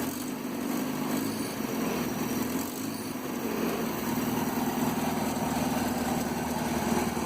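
A 1967 Land Rover Series 2a 109 engine running just after being rebuilt and restarted, a steady, even idle with a humming drone, close and continuous, with no talking.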